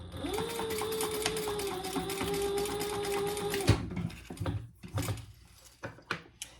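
A sewing machine hums steadily, top stitching 1/8 inch along a zipper on a vinyl pouch, then stops abruptly and is followed by a few close handling knocks and clicks.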